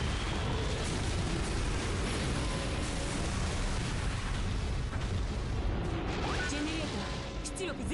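Missiles blast a city in a Godzilla video game, producing a dense, continuous roar of explosions and rumbling crashes at full loudness that fades slightly near the end.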